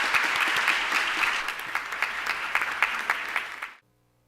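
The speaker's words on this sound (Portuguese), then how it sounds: "Vou pedir mais uma vez para todos uma salva de palmas" An audience claps for young participants at a child-protection seminar: dense, sustained applause with scattered sharper claps, fading out abruptly near the end.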